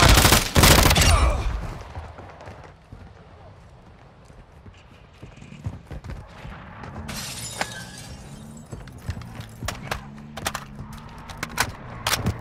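Rapid bursts of video game gunfire in a tactical shooter, loud and close at first, then scattered sharp shots over a low, droning background with occasional radio-style voice chatter.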